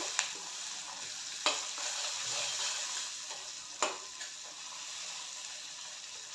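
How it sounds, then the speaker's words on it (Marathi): Tomatoes sauté with spices in a pan for a parwal vegetable dish, a steady close sizzle broken by a few sharp clinks of a spoon stirring against the pan. "त्यामध्ये टोमॅटो घालायचा. टोमॅटो पण छान परतून घ्यायचा."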